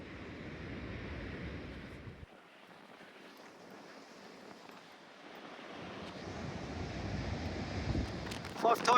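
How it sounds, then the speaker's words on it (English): Steady wind noise buffets the microphone over the broad wash of rough sea surf at Teignmouth, with waves surging louder toward the end. "Windy. Rough seas today"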